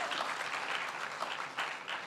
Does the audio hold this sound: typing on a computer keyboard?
no